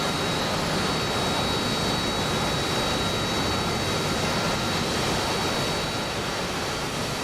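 An F-16 jet engine in the flight simulator DCS roars as a steady, loud broadband rumble with a thin high whine, unbroken for the whole stretch.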